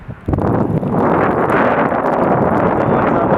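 Strong blizzard wind from Winter Storm Nemo roars across an empty intersection, a loud, dense, unbroken rush that buffets the microphone after a brief quieter moment at the start.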